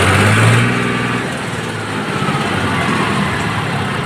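A repaired tractor engine running steadily close by, a loud continuous rumbling drone with a brief higher whine at the start, no talk over it.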